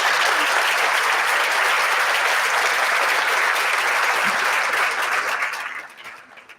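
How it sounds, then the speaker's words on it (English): An audience at a school awards ceremony gives a sustained, dense round of applause that holds steady for several seconds, then tapers off near the end. "would you stand up so we can give you a round of applause?"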